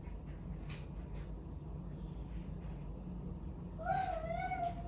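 A house cat gives a short, fairly clear meow near the end, following a stretch of quiet room background.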